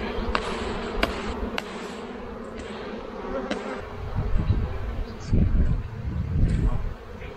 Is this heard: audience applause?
no